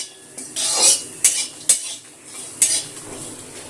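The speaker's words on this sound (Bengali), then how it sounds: "এগুলো ভাজতে ভাজতে রসুনের গাটা একটুখানি কালচে কালচে রং ধরেছে" Garlic and dried chillies dry-roasting in a hot wok, a metal spatula scraping and clattering against the pan in several sharp strokes with a faint crackle between them, no voices.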